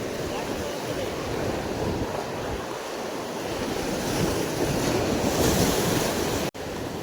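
Sea waves surge in at rising tide on a fishing shore, a steady, loud wash of surf with wind buffeting the microphone throughout, with no voices.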